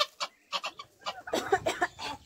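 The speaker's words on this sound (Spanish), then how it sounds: "Están preciosas sus gallinas" Hens cluck in short, irregular bursts close by, several birds calling over one another in a rural yard with no talk.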